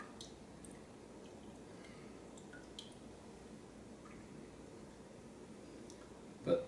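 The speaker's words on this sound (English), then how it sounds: "I can hear it already dripping through there now." Melted bear fat drips through paper towels lined in a colander, a faint steady seep of soft liquid ticks over low background hiss, with one sharper drop near the end.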